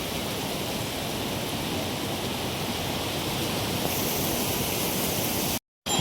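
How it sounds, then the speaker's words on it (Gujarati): A waterfall beside the Kedarnath trek gives a steady, close, full rushing roar that stays even throughout, cut by a brief dropout near the end, with no voices. "ફરીથી એક સુંદર મજાનો ત્યાં ધોધ આવી રહ્યો છે"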